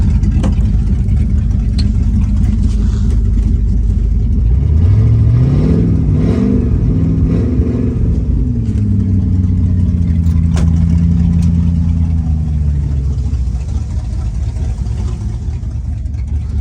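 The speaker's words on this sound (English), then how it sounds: "Give it a couple revs, and I just started this one." A truck engine, freshly cold started, rumbles loud and close, then rises through a couple of revs that fall away before it settles back into a steady idle.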